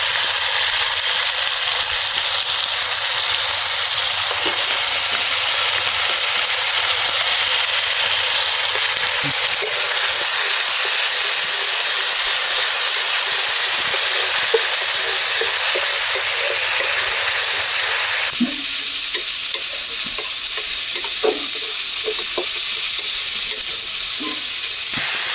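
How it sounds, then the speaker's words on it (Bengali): Tomato paste and then onion paste frying in hot oil for a village-style Bengali tel koi fish curry, a steady, dense sizzle and hiss throughout, with occasional stirring clinks and a sharper crackle after the second paste goes in. "টমেটো বাটা 2 মিনিট ভেজে এরপর পেঁয়াজ বাটা দিয়ে দেব।"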